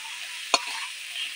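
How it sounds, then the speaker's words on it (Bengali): Fish frying in hot oil gives a steady, even sizzle throughout, with one sharp clink partway through. "তেল দিলে ভালোই ভাজা হবে।"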